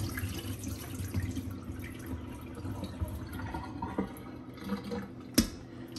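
Water runs and splashes steadily in a sink as soaking water is strained off pigtail, with a few clinks and a sharp knock near the end; no voices.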